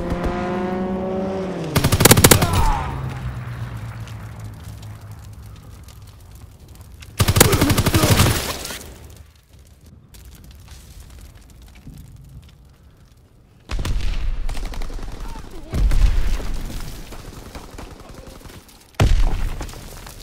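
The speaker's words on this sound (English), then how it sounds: "Enemy strafing run inbound!" Aircraft strafing runs rake a battlefield on the Aachen map of a domination-mode war video game. Several loud, near bursts of rapid machine-gun fire and explosions come in separate waves, with engine roar and rumbling in the gaps.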